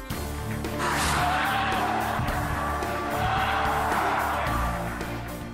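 Porsche Panamera driven hard on a race track, a loud sustained engine roar rising and falling through gear changes with tire squeal under cornering, heard close and continuous.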